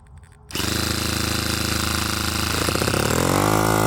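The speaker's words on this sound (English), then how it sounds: "It is a gas-powered Arrma Kraton." Gas engine of an Arrma Kraton RC car converted to run on gasoline, catching after a brief quiet start and settling into a loud, steady buzzing run that rises slightly in pitch toward the end.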